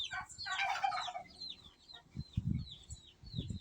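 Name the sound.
small chicken clucking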